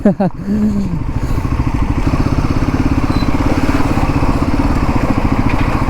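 Royal Enfield Himalayan 450 adventure tourer motorcycle being ridden, its single-cylinder engine throbbing in a loud, close, steady pulse after a brief rev at the start, with someone talking over it.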